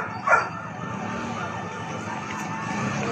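A fire truck siren wails at a fire on 19th Avenue in San Roque, Cubao, Quezon City, a steady moderate tone running under busy street noise, with a brief louder burst near the start.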